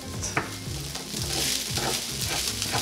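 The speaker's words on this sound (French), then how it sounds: "Je fais frire mon riz environ 3 à 5 minutes." Rice frying over medium heat in a pan, a continuous close sizzle with repeated scraping stirs at an even rhythm, no voices.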